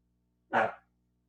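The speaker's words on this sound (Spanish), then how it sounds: "¿Quién es la que está ladrando?" A single dog bark, short and fairly loud, rising abruptly and fading within half a second against a quiet indoor background with a low steady hum.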